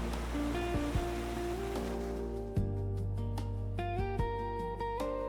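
Zadar's sea organ on the Adriatic shore sounds sustained, overlapping pipe tones pushed by the waves, shifting unpredictably in pitch, with wave surges and bumps underneath.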